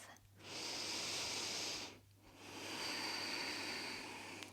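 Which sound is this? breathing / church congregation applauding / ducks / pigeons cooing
breathing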